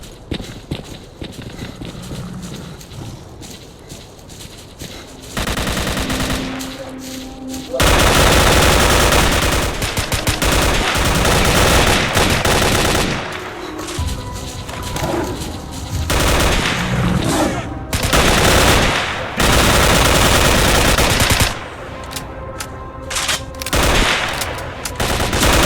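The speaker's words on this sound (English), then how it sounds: "Check your weapons and fire at will." Heavy gunfire in the shooter S.T.A.L.K.E.R. Call of Pripyat during the final mission, with dense, loud bursts and rapid volleys that swell and recede over a continuous roar of battle.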